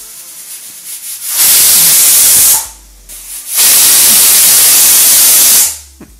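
Steam bursts loudly from a pressure cooker of egg biryani, two long sustained hissing blasts separated by a short pause, with softer hiss before the first surge and a small clink at the end.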